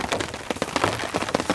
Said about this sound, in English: we've got nice steady rain coming down now